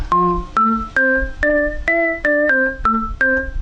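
Bright electronic organ notes played one at a time in a steady rising and falling melody, about nine notes, clear and close.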